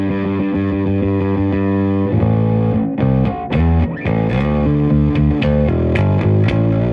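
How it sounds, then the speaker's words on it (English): An electric bass runs through an EBS Billy Sheehan Ultimate Signature Drive distortion pedal, first holding a thick, sustained, gritty note, then playing a string of punchy distorted notes with buzzing overtones, loud and close. "So it sounds kind of like an old Jack Bruce, heavily distorted bass amp, but you bring your clean, normal bass amp in."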